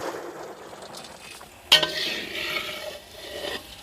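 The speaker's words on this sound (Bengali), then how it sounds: "চালের গুঁড়োর চইগুলো কড়াইতে ভেজে নেব" Rice flour pieces sizzle and fry in a wok, with a sharp metallic clink of a utensil partway through and soft stirring scrapes.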